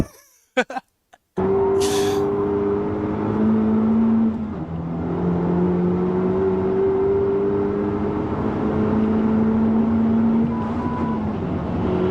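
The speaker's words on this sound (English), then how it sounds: "his downshifts are just super well timed with the RPMs" A race car engine drones and revs at high RPM, its pitch rising and then dropping sharply on a well-timed downshift before climbing again, loud and continuous after a few short bursts at the start.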